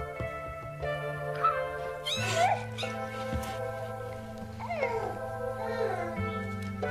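Six-week-old domestic kittens mewing in short, high-pitched cries, several calls spread across the moment, soft and close over a low steady musical drone.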